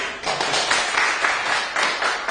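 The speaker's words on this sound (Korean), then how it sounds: "박수 한번 쳐주셔야 돼요." An audience at a humanities lecture applauds together, a steady wash of many hands clapping at moderate distance, filling the whole moment without speech.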